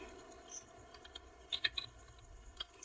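Soft, sparse key clicks on a computer keyboard, a few isolated taps and a short cluster of strokes, faint against a quiet room.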